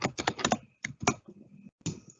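Keys clatter in quick bursts of typing on a computer keyboard, a fast run of clicks followed by a few separate presses after short pauses, close and fairly quiet.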